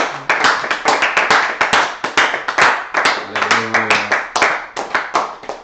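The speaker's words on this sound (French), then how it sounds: "Est-ce qu'on peut applaudir un peu pour le Seigneur Jésus?" Church congregation clapping in a quick, steady rhythm of sharp hand claps that runs through the whole clip, with a little singing or voice mixed in partway through.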